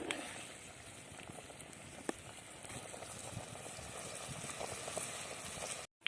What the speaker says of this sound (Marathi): आता हे आम्ही बराच वेळ असं शिजवून घेणार आहोत तर यामध्ये फ्लॉवर आणि वाटाणे शिजवून घ्यायचे आहेत